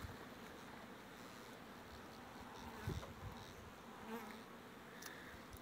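Honeybees buzz at a beehive in early spring during the first hazel pollen, a steady, faint droning hum with a few louder passes nearby.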